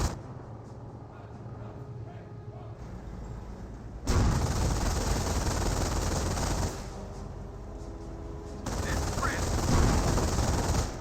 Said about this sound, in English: there's just him running over some pink traps and now shooting a bunker